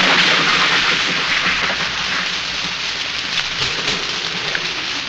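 Evening rain pours down steadily in a loud, dense hiss on surfaces, with scattered heavier drops and no voices.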